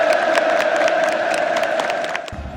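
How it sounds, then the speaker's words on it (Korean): A large stadium crowd in Pyongyang applauds and cheers at a political anniversary rally, a dense continuous roar of clapping and shouts with a sustained tonal hum from the crowd, loud and distant-wide, fading slightly at the end. "김정은이 모습을 드러내자 청중이 박수갈채를 쏟아내며 환호성을 지릅니다."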